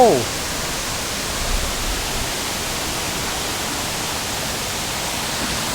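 The Erawan waterfall in Kanchanaburi, Thailand roars loudly and steadily, a dense, unbroken rush of water that fills the whole stretch.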